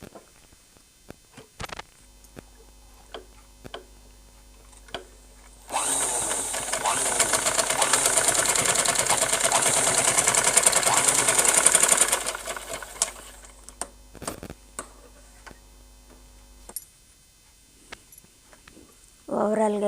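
A sewing machine stitches canvas along the neck of a long frock, running in a steady rapid whir for about seven seconds between quieter moments with a few handling clicks and taps before and after.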